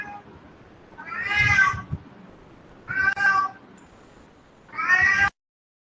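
A cat meows three times, loud and close, each call drawn out for about half a second to a second with pauses between, over near silence.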